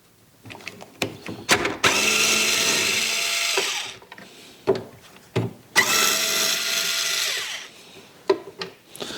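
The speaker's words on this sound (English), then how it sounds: "Just need a Phillips head screwdriver. We got 2 bolts right here." Bolts are unscrewed with a Phillips head screwdriver while changing a motorcycle's rear blinker light: repeated close, loud ratcheting turns in two long stretches, separated by sharp clicks and taps.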